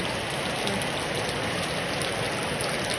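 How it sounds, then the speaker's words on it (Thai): Steady light rain patters continuously, a dense even hiss with no voices. "นี่ฝนโปรยปลาย สดชื่น"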